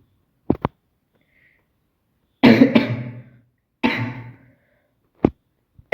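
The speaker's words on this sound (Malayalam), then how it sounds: "നല്ലൊരു ചുമയുണ്ട് കേട്ടോ" A person coughs in a few harsh bursts separated by silence, with short sharp throat sounds at the start and end, close and fairly loud.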